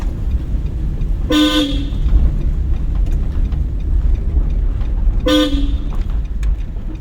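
Two car horn honks, about four seconds apart, each short and loud over a steady low rumble of engine and road noise.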